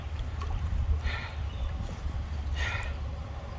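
A kayak paddles along a river during race practice, with two soft paddle splashes about a second and a half apart over a steady low rumble of wind and water.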